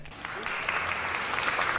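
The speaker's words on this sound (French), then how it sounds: "Applaudissements." Crowd applause at a Rocket League match, a steady wash of clapping that stays fairly even throughout, distant and moderate in level.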